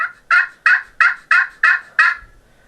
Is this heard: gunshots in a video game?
no